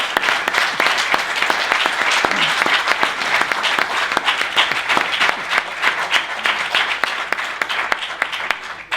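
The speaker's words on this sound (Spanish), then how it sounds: "Este aplauso para Lorenzo" A large crowd applauds steadily at a hiking conference, dense clapping filling the room at a consistent volume throughout.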